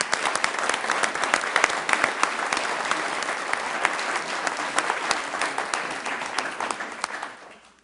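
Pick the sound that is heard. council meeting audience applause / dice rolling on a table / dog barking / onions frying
council meeting audience applause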